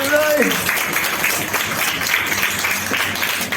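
A group of people, likely a class, claps and applauds together in a brief burst, with voices talking over it.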